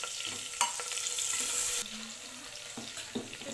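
Ginger-garlic paste and crushed coriander sautéing in hot oil in a pan, a steady close sizzle with brisk stirring scrapes throughout.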